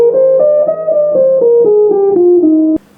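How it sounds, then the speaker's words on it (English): A major scale played one note at a time, eight steady stepwise pitches with a bright, clear tone, loud and alone, stopping abruptly at the end. "It's called the major scale and it sounds like this."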